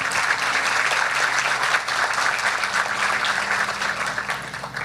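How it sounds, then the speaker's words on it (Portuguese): An audience at a tobacco production forum applauds steadily and loudly, the dense clapping lasting throughout with little change in intensity. "Romeu, que recebe os nossos aplausos"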